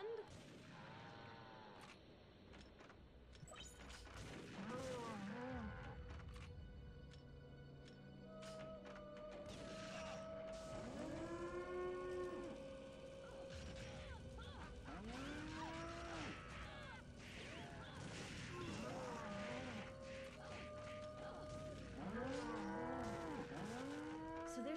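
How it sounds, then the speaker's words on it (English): Mooing from an undead cow carcass in the video game TimeSplitters: Future Perfect, several drawn-out bellowing moos repeating over a low rumbling game backdrop, fairly quiet overall. "I love the fact that we have an undead cow carcass."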